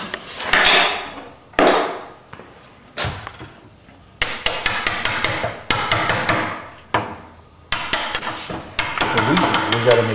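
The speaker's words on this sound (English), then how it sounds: "final adjustments have to be made with the chisel 1/16 of an inch at a time." A chisel is struck for fine woodworking adjustments, giving sharp, close, ringing knocks: a few separate blows and then quick bursts of repeated strikes, with pauses between.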